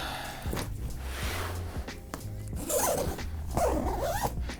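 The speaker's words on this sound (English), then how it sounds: "Zip that up." A zipper runs along the inside pack of a $17,000 camera bag, giving several close, raspy pulls with short pauses and light handling rustle in between.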